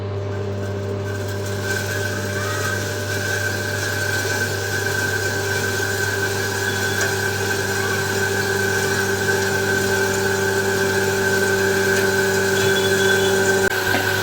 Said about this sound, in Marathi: इथे मशीन आहे आणि इथे सर्व पीठ जमा होतं